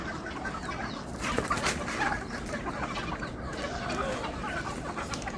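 Country hens at a village poultry farm cluck and murmur in a dense, steady chorus, with a few louder calls rising above the constant flock noise.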